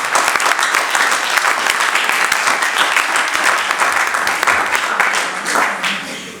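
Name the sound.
church congregation applauding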